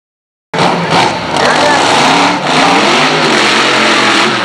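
A race car built in Reseda, California for a 200 mph record drives at speed, its engine cutting in abruptly and holding a loud, continuous roar with slight shifts in pitch, while a voice talks over it.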